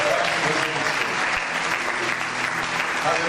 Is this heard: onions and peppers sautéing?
no